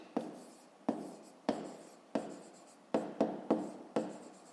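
A pen writes on paper in short separate bursts, about eight scratchy strokes with brief pauses between, close and fairly quiet with no talking.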